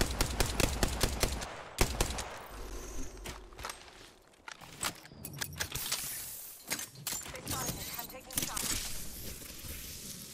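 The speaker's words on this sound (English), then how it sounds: "Yo, I heard shooting." Bursts of gunfire crackle through an Apex Legends match, with scattered shots and rapid volleys at mid distance alongside footstep and gear clatter, while players talk over the action.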